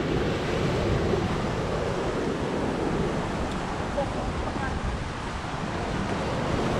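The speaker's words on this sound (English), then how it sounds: "Don't want to get tumbled up into this kind of surf." Surf crashes onto a rocky Cozumel shoreline of big jagged rocks and shells, a close, continuous roar of breaking water with wind buffeting the microphone throughout.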